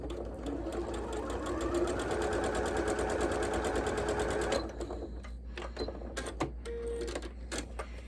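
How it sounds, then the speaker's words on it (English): A sewing machine runs steadily while stitching a scant quarter-inch quilt seam for a log cabin block, a close, fast rhythmic whir that stops partway through and gives way to quieter handling clicks and fabric rustle. "I'm sewing a scant 1/4 inch seam"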